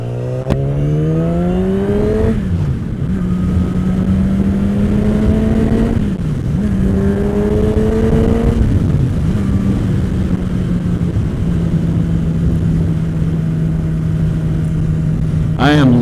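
A new Yamaha R6 sport motorcycle revs hard while riding, its engine note climbing through several quick gear changes before settling into a loud, steady drone.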